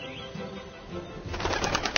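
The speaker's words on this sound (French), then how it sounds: "Au-dessus d'eux, dans un magnifique envol, l'aigle royal tournoie" Golden eagle flapping its wings in flight, a soft rushing whoosh that grows louder and busier toward the end, with quick airy beats close by.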